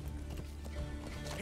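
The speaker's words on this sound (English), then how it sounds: "let's hide my horsey behind this big rock" A horse in the video game Metal Gear Solid 5 moves along with soft, rapid clip-clop hoofbeats under a low ambient bed, faint and steady across the moment.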